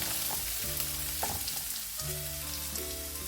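Chopped onion dropped into a pan with lightly browned garlic, a steady close sizzle and crackle of frying with short scraping stirs, and no talk.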